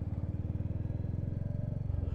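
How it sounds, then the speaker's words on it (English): Aprilia Tuono V4 motorcycle with a noisy aftermarket exhaust, a low rapid pulsing burble from a nearby bike, idling with slight throttle swells. "Is that Joe on that noisy exhaust? Joe blipping his exhaust then."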